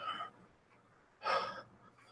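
A voice imitates a woman breathing hard, two short, faint breathy gasps separated by a pause of about a second.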